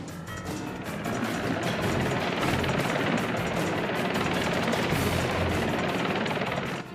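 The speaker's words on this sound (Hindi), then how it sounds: "हेलीकॉप्टर को और ऊपर की तरफ उड़ाओ।" A cartoon helicopter drones continuously overhead, its rotor thrum steady and loud for several seconds with no voices.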